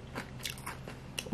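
Crunchy pickled butterbur stems are bitten and chewed close up, giving several quiet, crisp crunches spaced across a brief moment.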